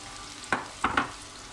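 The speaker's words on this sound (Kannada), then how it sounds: "ಇದು ನಾವು ಈಗ ಗೋಲ್ಡನ್ ಕಲರ್ ಬರೋ ತನಕ ನಾವು ಫ್ರೈ ಮಾಡ್ಕೊಳ್ತಾ ಇದ್ದೀವಿ" Puffed rice fritters (charmuri bajji) fry in a shallow layer of oil, with a soft background sizzle broken by three brief scraping stirs or turns of a utensil.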